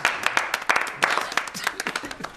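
Studio audience claps at a Pakistani comedy show, sharp irregular claps in bursts that thin out toward the end, with no voice over them.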